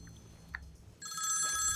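After a brief quiet moment, a phone starts ringing with a bright electronic tone, fairly faint and steady through the end.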